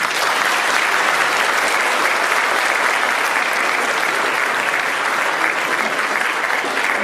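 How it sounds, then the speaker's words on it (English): Loud, sustained applause from a large audience welcoming a presenter in South Carolina, a thick unbroken wash of clapping that holds evenly for about seven seconds. "Thank you for clapping for me"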